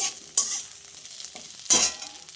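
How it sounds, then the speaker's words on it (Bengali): Fresh red and dried chillies frying in a wok, a hot sizzle with two sharp bursts of stirring or spattering over a softer steady crackle, no voices. "দেখো এখানে আমি তিনটে পাকা লঙ্কা চারটে শুকনো লঙ্কা দিয়ে দিয়েছি এগুলোও দিয়ে দিলাম কড়াইতে"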